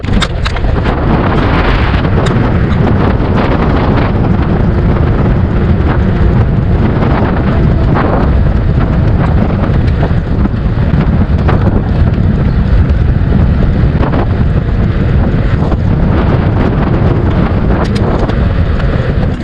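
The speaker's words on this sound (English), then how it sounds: "It's around 13 degrees in the sun and windy." Strong wind buffets the microphone outdoors on a cool, windy day, a loud continuous rumbling roar that never lets up.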